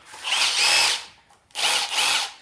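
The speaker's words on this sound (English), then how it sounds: "Let's get these bolts out of here. I'm using the Milwaukee Surge M18." A Milwaukee Surge M18 hydraulic impact driver backs out bolts in two close, loud bursts of whirring, the first about a second long, then a brief pause before the second.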